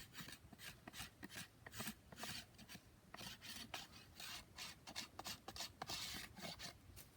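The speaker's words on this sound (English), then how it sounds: "Scraping the belly." Knife blade scraping the belly of a quickly made wooden bow, a close, quiet rasping repeated in steady short strokes with no talking.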